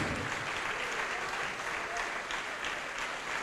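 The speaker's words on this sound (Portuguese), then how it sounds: "Dê uma salva de palmas, porque esse dia está chegando" Applause from a church congregation during a sermon, a dense, even wash of many hands clapping that holds steady at moderate volume throughout, with no talking over it.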